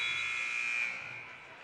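A steady electronic buzzer sounds the end of a quarter at a high school basketball game in a gym, one sustained loud tone that holds and then slowly fades.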